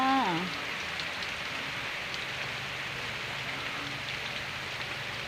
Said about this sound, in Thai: ฝนยังไม่หยุดตกเลย